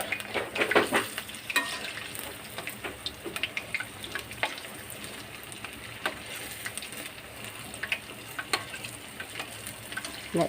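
Dried red chillies and onions frying in a pan for chutney, a continuous soft sizzle with scattered scraping and stirring clicks, close and fairly quiet throughout with no one talking.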